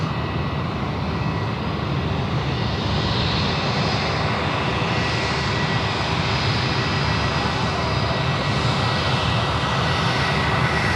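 An Emirates jet airliner's engines roar steadily at Sydney Airport, a broad continuous rumble with a faint whine above, heard from a distance without letup.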